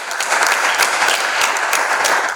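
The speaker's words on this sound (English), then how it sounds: "Can we please give these contestants a big round of applause" Steady, full applause from an audience after a debate between contestants, dense overlapping claps holding at an even level throughout without speech.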